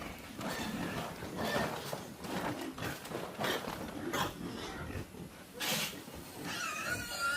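Piglets eating from an automatic feeder in a pen, a continuous jumble of snuffling, chomping and rattling up close, with occasional louder clanks and squeals mixed in.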